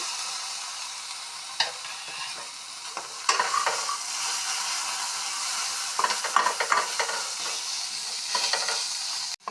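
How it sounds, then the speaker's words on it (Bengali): Spices fry in a pan for a taro, bean and dried-fish curry. There is a steady close sizzle with repeated scraping stirs of a spatula, with no voices. "সব মশলা সুন্দরভাবে ভাজা হয়ে"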